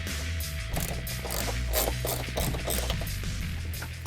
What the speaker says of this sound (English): The last step in removing our stock air box, remove the retaining bolt located here towards the fender.